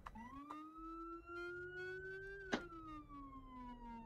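A synthetic police siren in a video game wails in a slow rising then falling sweep, steady and tonal, with a couple of sharp clicks cutting in.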